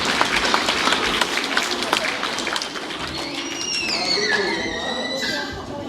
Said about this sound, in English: let's give him a massive clap for that